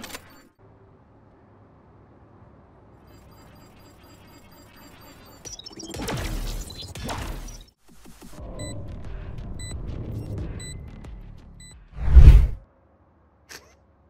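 A bomb ability thrown in the Valorant video game: low rumbling game sounds build, then a single loud, short burst lands near the end, followed by a faint tail.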